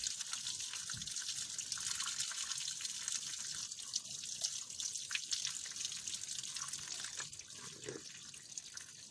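Engine coolant from a Peugeot Citroën 2.2 HDI drains out of the car onto tarmac during a timing belt job, a steady, close trickling and splashing of liquid that runs alone the whole time with a few soft drips.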